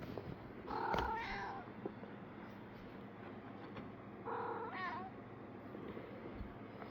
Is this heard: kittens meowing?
yes